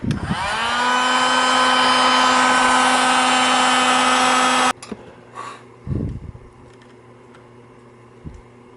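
A jukebox motor part from an NSM 45 rpm mechanism is heated with a loud, steady blowing whir that runs for several seconds and then cuts off abruptly, leaving quiet handling clunks.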